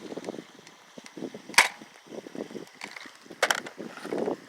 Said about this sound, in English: I'll let y'all see where this dart hits.